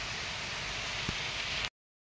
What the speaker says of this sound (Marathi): पावसाने परत इथे संततधार चालू केलेली आहे.